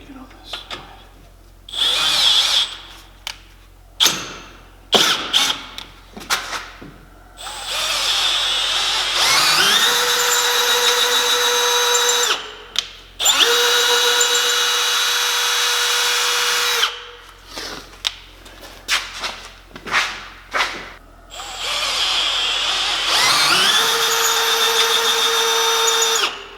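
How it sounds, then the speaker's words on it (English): A power drill bores into Jeep JK bumper mounts in several bursts, some long and steady, others short, with whining motor pitch, clattering handling noises and quiet gaps between. "now that all the drilling and cutting is done"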